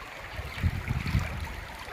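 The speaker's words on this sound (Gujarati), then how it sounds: "પાણી જો આખા રોડ ઉપર મિત્રો પાણી હેલી જાય." Rainwater runs and swishes steadily along a road surface nearby during windy rain, a continuous low flowing rush with small surges.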